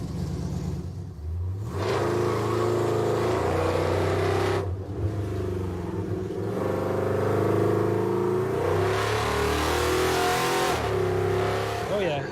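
Muscle truck with a four-link rear suspension accelerating hard on a timed run at dusk, engine roaring loud and close as it climbs through gears with brief dips at shifts, a voice talking over it.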